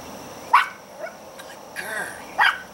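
A Chihuahua barks a few times, with short, high yips spaced apart and fairly close, over a faint background hum.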